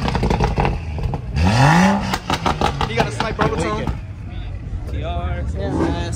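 A supercharged Dodge Scat Pack with a cam revs and burbles at a car meet, a sharp rising rev followed by choppy exhaust pops, mixed with crowd chatter and people talking nearby.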